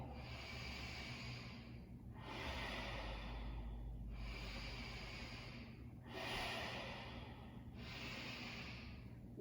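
Slow, deep yoga breathing close up, five long airy breaths alternating between inhale and exhale in a steady rhythm, with no talking over them.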